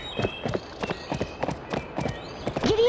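Horse hooves galloping in Barbie Horse Adventures: Wild Horse Rescue on PS2, a quick, steady clip-clop rhythm of close, crisp hoofbeats with a faint tonal game sound behind.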